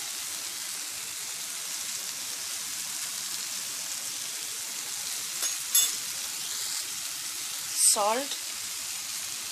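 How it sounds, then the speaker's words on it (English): Potato and egg fried rice sizzles steadily in a pan, a soft continuous frying hiss with a couple of brief stirring scrapes and a short spoken word near the end. "saute everything for 5 minutes"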